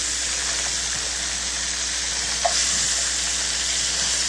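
Sausages sizzle steadily as they brown in a pan, a close, even hiss broken only by one faint knock as they are turned.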